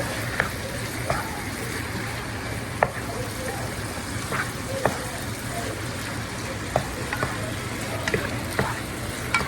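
Seasoned chicken pieces frying in a pan for buffalo chicken sandwiches, giving a steady broadband sizzle with several sharp scrapes and clicks of a utensil stirring through the meat, close and continuous.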